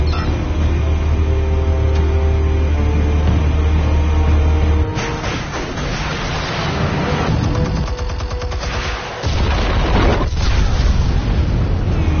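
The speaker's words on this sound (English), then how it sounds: "Explosives armed. Fire when ready." Explosives detonate in the Batman Telltale Series video game: a loud, sustained rumble of blasts and crackling gunfire-like bursts with deep booms, dense and continuous for about twelve seconds.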